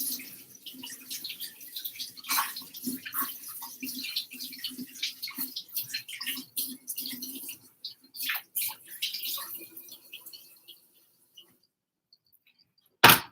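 Tap water runs and splashes as oranges are rinsed in a kitchen, a faint irregular trickle with scattered small knocks that stops near the end.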